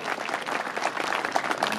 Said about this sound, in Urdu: زوردار تالی ہونی چاہیے۔